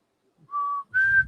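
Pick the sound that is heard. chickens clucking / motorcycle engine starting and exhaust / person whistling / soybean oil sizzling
person whistling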